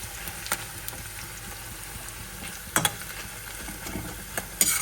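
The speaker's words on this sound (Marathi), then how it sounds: "आणि इकडे बरिस्ताला पण मी कांदा तळत घेतले." Onions frying in hot oil for a mutton biryani garnish, a steady soft sizzle with occasional louder stirring clatters, fairly close and without talk.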